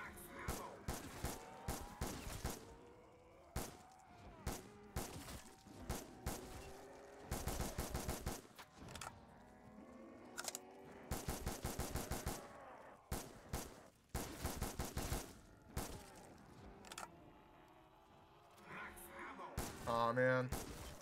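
Repeated bursts of SMR rifle fire in Black Ops 3 Zombies on the custom Mirage map, crisp gunshots in short volleys with pauses between, loud and close, separated by quieter stretches of game ambience.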